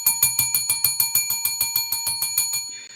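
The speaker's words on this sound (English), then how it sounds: "Ringing that damn bell for sure." A bell rings in a quick, steady series of about fifteen bright, sharp strikes, each ringing briefly before the next, heard close and clear with nothing else over it.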